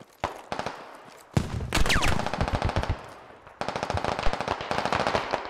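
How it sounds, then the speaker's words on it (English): Rapid bursts of automatic gunfire rattle loudly and almost continuously, with a brief lull before heavy firing resumes, in an infantry firefight in the video game Squad on the Sumari Bala map. "I'm just hearing a bunch of gunfire"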